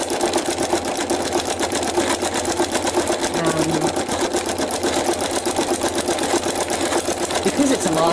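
A sewing machine stitches quickly back and forth in short bursts, its steady rapid whirring and needle clatter running throughout at close range with some talking over it.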